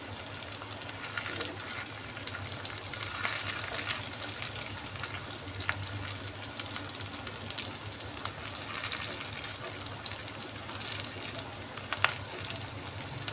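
Rohu fish roe fritters frying in oil, a steady soft sizzle with faint bubbling and occasional light scrapes as pieces are turned, continuous throughout.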